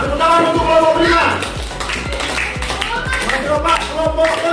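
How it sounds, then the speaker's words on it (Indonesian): A room claps for a group of five presenters at a teacher coaching session, scattered close handclaps in an uneven patter while people talk over them. "Tepuk tangan untuk kelompok berlima."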